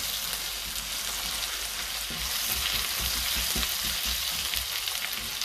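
Garlic frying in a pan for Bolognese sauce while being constantly stirred: a dense, continuous close sizzle with soft stirring, no voices.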